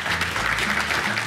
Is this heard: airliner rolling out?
no